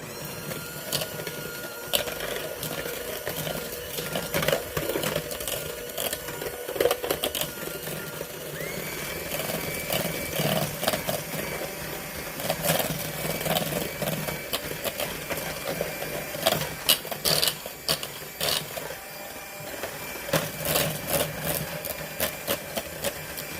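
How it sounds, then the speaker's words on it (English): An electric mixer runs continuously while oatmeal raisin cookie dough is being made, a steady mechanical whir with rattling and clicking bursts from close by, with no talking over it. "I sped forward a little bit so you didn't have to listen to that mixer go on and on"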